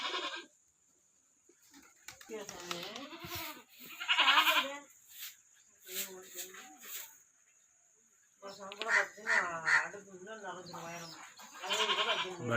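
A young kid goat bleats repeatedly in wavering, quavering calls, close and loud, in bursts separated by short pauses, with a person talking in between.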